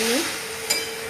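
Ghugni is stirred in a kadai, giving a soft scraping stir over a low, steady background with one brief metallic clink. It is quiet and unhurried, with no talking heard.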